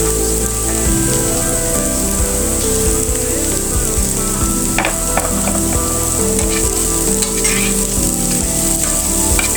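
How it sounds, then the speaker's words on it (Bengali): Onions and fresh coriander leaves fry in a pan for a Bengali fish bharta, giving a steady, loud, close sizzle with occasional stirring clatter and no talk. "অর্ধেক পেঁয়াজ ভাজা হয়ে গেলে আমি এখানে অ্যাড করে দিব ধনেপাতা।"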